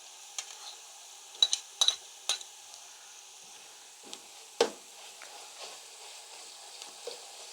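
A soft, steady sizzle of onions and garlic paste frying in a pan for matar pulao, with occasional clinks and scrapes of a utensil stirring, fairly quiet and close.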